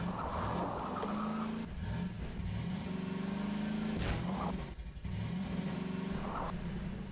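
A video game car being driven, its engine revving up and shifting through rising and falling tones, with a couple of sharp knocks, steady and fairly close with no talking.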